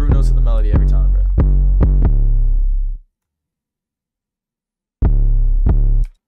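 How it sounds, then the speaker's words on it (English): A second 808 bass line in a pluggnb beat thumps loudly in a run of sustained low notes with a slightly gritty top. A silent gap of about two seconds falls before the pattern resumes, with no voices. "We got a second 808."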